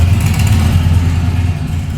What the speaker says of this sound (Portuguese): Essa moto é bem chata.